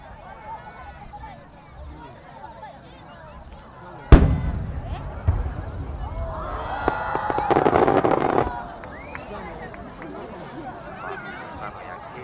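A sudden loud firework bang is followed by a burst of crackling explosions at a Japanese fireworks festival on the Agano River, with a crowd murmuring in the background.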